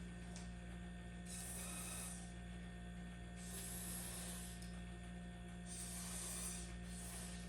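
Cleaner sprays in several short hissing bursts onto a Ruger MK4 22/45 Lite pistol held over a garbage bin, fairly faint and close, with a steady low hum underneath between the bursts.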